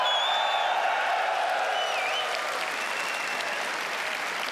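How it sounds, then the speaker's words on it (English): Loud, dense audience applause at ExileCon 2023, the Path of Exile convention, sustained clapping with faint whoops and cheers throughout, filling the hall without pause. "That applause, though."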